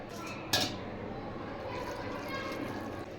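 Mutton pieces rinsed with hot water in a home kitchen: steady splashing and trickling with a sharp clink of a metal pot or utensil near the start, close and moderately loud.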